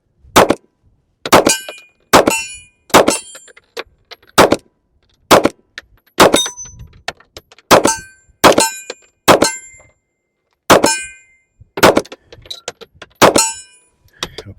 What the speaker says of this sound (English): So we're going to fire this first 13 rounds and see how it goes.